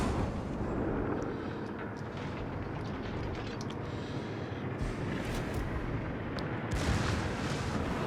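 Dense, rumbling broadband gunfire fills the scene throughout, continuous heavy booms of warship main guns in the naval battle game World of Warships, loud and sustained with no clear gaps.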